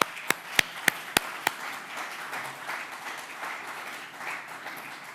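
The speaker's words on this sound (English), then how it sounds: "I think we should give a round of applause for all these new people and" An audience at an opening ceremony applauding: a few sharp, separate claps at the start, then a soft, steady patter of clapping that carries on evenly in the background.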